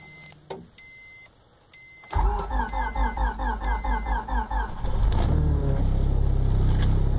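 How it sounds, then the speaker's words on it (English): A 1998 Honda Civic five-speed with about 176,859 miles cold-starts at around -10 degrees: after chimes and beeps, the starter cranks rhythmically for a few seconds, then the engine catches and settles into a steady, loud idle up close. "cold starting my 1998 Honda Civic"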